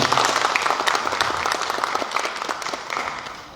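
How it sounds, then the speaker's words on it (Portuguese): Samba federation general assembly audience applauds a former Portela president, a brief burst of clapping with voices mixed in, gradually tapering off. "Uma salva de palmas para o nosso querido Magalhães."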